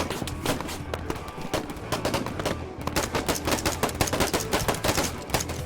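Dense automatic and single-shot gunfire crackles nonstop through a Vietnam War video game battle, rapid overlapping bursts close by with no pause, over a low rumbling backdrop.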